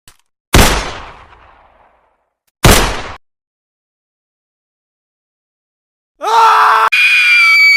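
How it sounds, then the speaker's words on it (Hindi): Two loud gunshots from a bank guard's gun in an audio drama ring out about two seconds apart, each with a decaying echo. After a long silence comes a piercing, sustained scream. "लेकिन ध्रुव भीड़ के पहुंचने से पहले ही बैंक के गार्ड की बंदूक लेकर दोनों गोलियां दाग चुका था। दो जोरदार धमाके हुए"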